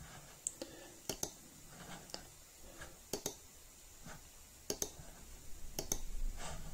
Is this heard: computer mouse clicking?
yes